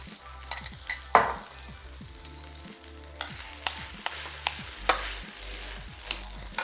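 Kimchi fried rice stir-frying in a pan, with a steady sizzle broken by repeated scraping and tossing strokes of a utensil at a regular rhythm, close and fairly quiet.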